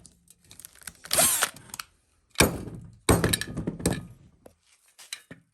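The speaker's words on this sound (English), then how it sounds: "So the first thing we have to do is drill out these 2 rivets." A step bit drills out two rivets on a motorized bicycle fender, coming as a few loud, separate bursts of whining drill with thunks and short gaps between them.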